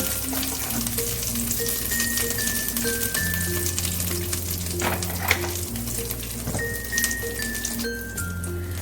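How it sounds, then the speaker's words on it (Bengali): Very small chicken pieces frying in oil for fried rice give a strong, close, steady sizzle with stirring scrapes, while light background music with tinkling notes plays along; no one speaks. "এবার এই করার মধ্যে আমি আরেকটু তেল দিয়ে দেবো চিকেনগুলোকে ফ্রাই করার জন্য"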